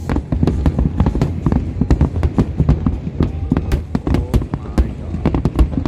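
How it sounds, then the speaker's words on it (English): New Year fireworks at Al Marjan Island crackle and pop in rapid, irregular bursts, dense sharp cracks and thuds going on continuously and loudly, with a person exclaiming over them. "Oh my god, these fireworks change colors."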